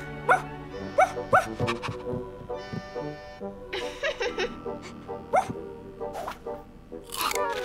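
A dog barks several times in short bursts, close by, with yips and whimpers between, over low background sound.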